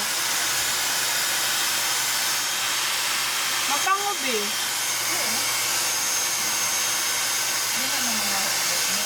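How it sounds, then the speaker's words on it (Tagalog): A hair dryer blows continuously with a steady, loud airy hiss, while someone speaks briefly partway through. "The blower."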